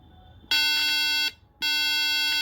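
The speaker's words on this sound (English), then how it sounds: "this tone function will provide a square electrical wave of frequency 300 as specified" Square-wave tone from a push-button Arduino piano through an audio amplifier: two loud, harsh buzzy beeps, the first under a second long, then a short gap and a second sustained tone, close and alone.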